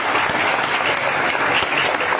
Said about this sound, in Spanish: Levanten ese aplauso de gratitud al Señor